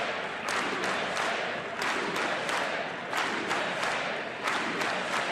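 A large crowd at the State of the Union cheers for Trump, a loud continuous roar with rhythmic surges and chanting-like pulses filling the hall.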